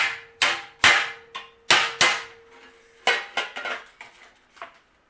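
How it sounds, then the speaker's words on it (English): Claw hammer pounding the sheet metal flange of a Datsun 280ZX spare tire well: about ten sharp, ringing metallic strikes at an uneven pace, close and loud, with no voices. "hammering this around."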